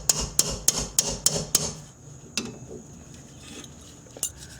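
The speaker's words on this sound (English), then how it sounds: "Now what's happening as I remove this fastener, this guy is rotating with it." A 12mm fastener is worked loose with a wrench on an Acura TL parking brake, giving a quick run of six sharp metallic clicks followed by a few scattered clinks, close and fairly quiet.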